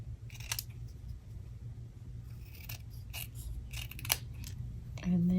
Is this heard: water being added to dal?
no